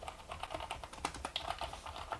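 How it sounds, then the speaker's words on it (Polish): Quiet typing on a Rebeltec BigFONT membrane keyboard with low-travel keys, a steady run of soft, muffled keystrokes at close range with no voices. "klawisze mają dość niski skok i są bardzo, bardzo cichutkie"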